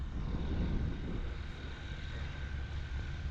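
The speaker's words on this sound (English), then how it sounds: "It's actually a Zen Air CH650B Zodiac." Zenair CH650B Zodiac light aircraft approaching to land at an air show in Montrose, Scotland, its engine drone steady and fairly close amid wind noise on the microphone.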